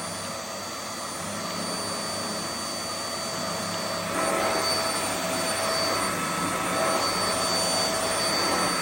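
A Vax Mach Air U91-MAB 1200W upright vacuum cleaner runs with its brush bar, a loud continuous whooshing roar with a steady whine that swells slightly partway through, with no voices.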